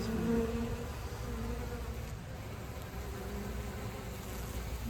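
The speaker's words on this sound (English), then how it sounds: "You talk about a busy bee." Bees swarm around garden flowers and vegetable plants such as squash and okra, a dense continuous buzzing that fills the whole stretch, steady and close with no talking.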